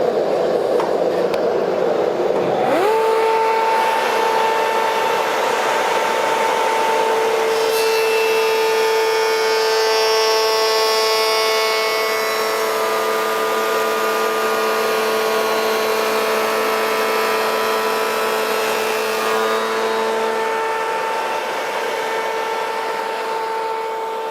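A router fitted with an expanding slotting disc spins up and cuts a groove in wood, its steady high whine holding close and loud over a dense, continuous cutting hiss for a long stretch.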